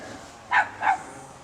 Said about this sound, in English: next door's dog, that's all that does is bark